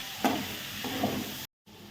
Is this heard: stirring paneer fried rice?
yes